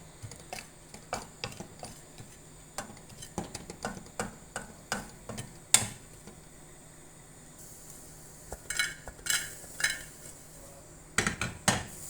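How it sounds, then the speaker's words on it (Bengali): Dried fish (shutki) frying in a pan while being stirred, with repeated scraping and clinking of a utensil against the metal in irregular bursts over a low steady background. "শুটকি আমি ভালো করে ভেজে নিব"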